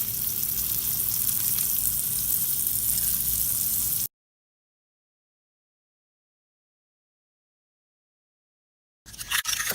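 Homemade pork breakfast sausage frying in a skillet over medium-high heat gives a steady, loud sizzle for about four seconds, then cuts to silence before the sizzling returns briefly at the end.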